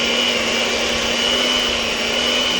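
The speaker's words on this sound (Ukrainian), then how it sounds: "Масло повинно бути кімнатної температури, тоді краще збиватиметься. Збиваємо все в однорідну масу." An electric mixer whips room-temperature butter into a smooth filling for walnut-shaped cookies, giving a loud, steady motor whine that holds unbroken throughout with no talking.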